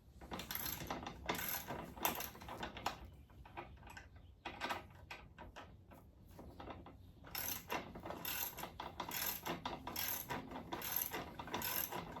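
Ratcheting wrench tightening bolts on a Hercules miter saw stand, bursts of quick metallic clicks separated by short pauses, including a quieter gap midway, close and clear with no talking.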